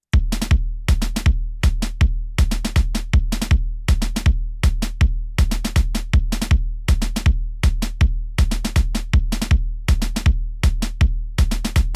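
Snare and kick drum together drive a steady riddim beat: booming low kicks land under clustered double and triple snare hits in a loud, regular loop with no voices.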